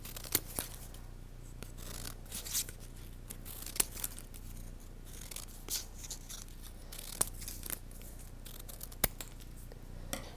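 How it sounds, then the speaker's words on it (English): Scissors snip deep triangular cuts into a sheet of paper for concentric kirigami, a steady run of crisp, close snips and light paper rustles with no talking. "I'm making some deep triangular cuts."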